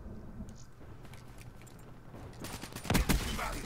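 Black Ops 3 multiplayer gunfire: faint scattered shots at first, then a louder close burst of rapid fire near the end.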